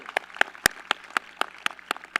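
Applause from the audience at a high school commencement, heard as a series of sharp, separate claps in a fairly regular rhythm, close and moderately loud.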